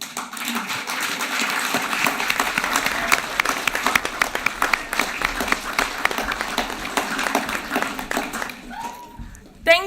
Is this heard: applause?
yes